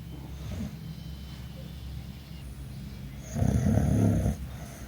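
Dog snoring while asleep nearby, a low rumbling breath audible at the start and a louder, longer snore toward the end over steady room noise.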